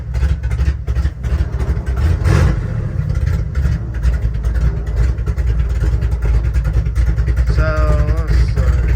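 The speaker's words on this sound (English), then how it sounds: "And this old motor sounds good." A loud old engine of a 1966 Chevrolet C-10 truck rumbling and revving up close on a cold start, with a talking voice partly heard over the steady roar.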